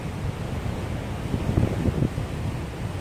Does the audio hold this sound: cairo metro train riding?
no